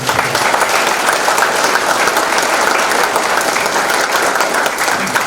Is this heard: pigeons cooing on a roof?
no